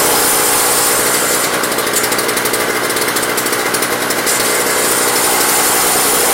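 Toro single-stage snow blower engine running rough with the choke on, a loud continuous mechanical rattle and chatter close by, with a rapid pulsing clatter in the middle stretch and no talk.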